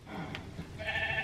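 A human voice imitates a sheep's bleat in one short, wavering call that rises toward the end, heard alone over a quiet background.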